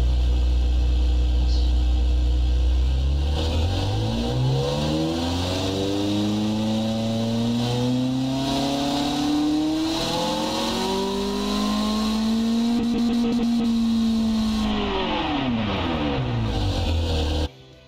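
A V8 engine in the Automation game revs up steadily, its rising harmonic whine climbing and holding high before dropping, loud and continuous until it cuts off at the end.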